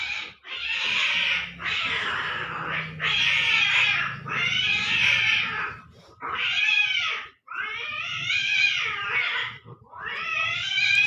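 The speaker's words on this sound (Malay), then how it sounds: "Ada kucing baru datang, dia nak menguasai tempat ni you all." A small young male cat caterwauls in long, loud, drawn-out yowls and meows, repeating one after another with only brief gaps, up close and with no talking.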